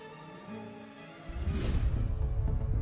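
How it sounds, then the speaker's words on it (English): A recorded solar storm striking the atmosphere starts as a faint, eerie whistling hum, then bursts into a loud, dense rumbling roar that builds and stays heavy to the end. "this is the sound of a solar storm crashing into our atmosphere"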